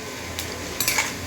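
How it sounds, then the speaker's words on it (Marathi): Onion frying in oil for a peas and paneer gravy, a short burst of low sizzling with two quick metallic spatula scrapes against the pan. "कांदा फ्राय होत असताना"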